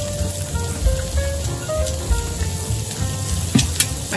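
Onions and carrots stir-frying in a hot pan for tuna curry fried rice, a steady close sizzle with soft scraping and stirring knocks throughout, no talk.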